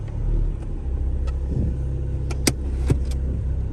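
A Chrysler PT Cruiser with a bypassed heater core and low coolant idles with a low rumble, then is shifted into gear and creeps forward. A few sharp clicks and clunks sound close by over the engine.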